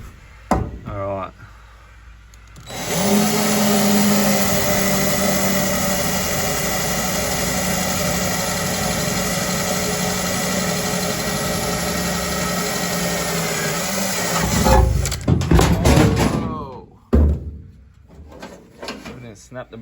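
A jigsaw cuts out a hole, a loud, continuous buzzing rasp lasting about twelve seconds, then stopping amid clattering handling noises and brief speech.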